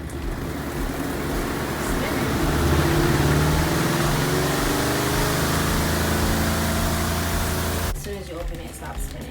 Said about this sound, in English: So I'm gonna close it up and put it on spin for 5 minutes.